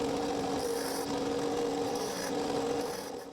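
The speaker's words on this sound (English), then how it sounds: "I will use the drum sander to sand a bevel to each side of the handle." A drum sander grinds a bevel onto the side of a wooden mallet handle, giving a steady, loud abrasive whir with a continuous motor hum and rough rasping texture throughout, tapering slightly at the end.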